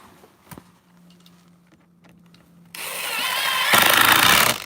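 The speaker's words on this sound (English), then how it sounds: "Nothing as good as an impact drill." After a quiet stretch with a faint hum, an impact drill starts up loudly nearby and whirs steadily, its pitch shifting partway through.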